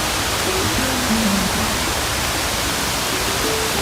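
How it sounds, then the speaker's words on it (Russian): Heavy rain pours steadily along the Camino Francés pilgrimage route near Santiago de Compostela in Galicia, a dense continuous hiss of even loudness throughout with no pauses and no voices. "Пошел сильный дождь"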